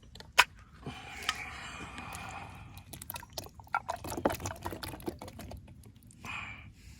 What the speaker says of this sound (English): Then get the kidney beans in.